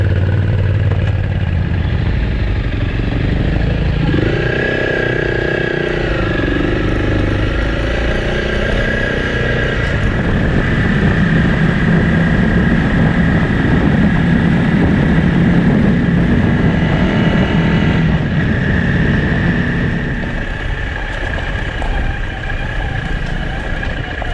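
A Honda CRF300L dual-sport motorcycle rides trails near Buxton, its mid-pitched engine droning steadily and loudly throughout, rising and easing with throttle changes and wind rush.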